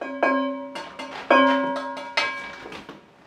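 A few ringing taps with the handle of a rubber spatula on a resonant object, each strike leaving a bright bell-like tone that decays before the next, close and clear with no talking.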